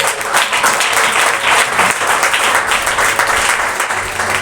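A church congregation applauds to acclaim the Lord, steady dense clapping filling the whole stretch at full loudness with no gaps.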